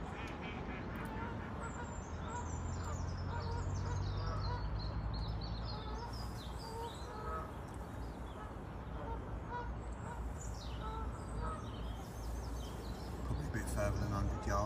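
Geese honk from somewhere across a lake, scattered calls standing out over a steady wash of wind and outdoor background noise.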